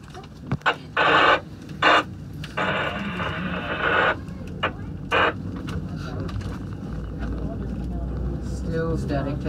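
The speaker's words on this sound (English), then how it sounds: "Still static, 10-9." Crackling radio static on the Jasper SkyTram's radio channel arrives in several short, loud bursts and one longer hiss early on, then fades into a steady, quieter cabin rumble.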